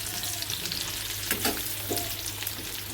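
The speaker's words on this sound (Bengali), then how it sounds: "দেখুন আমার এগুলো উল্টে পাল্টে ভেজে নেব।" Rohu fish cutlets fry in hot oil in a pan with a steady, dense sizzle and a couple of brief stirring clinks. The sound is close, continuous and carries no talk.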